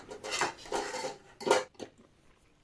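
A utensil scrapes and stirs thick sorghum flour cooking in a pan over a medium gas flame, in a few loud, close strokes with short gaps between them and no talking.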